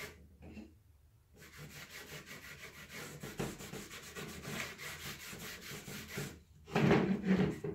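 Cloth or hand rubbing stain into a rustic weathered wooden picture frame, a steady close scraping and swishing friction that runs continuously, with a brief pause before a louder burst of rubbing near the end.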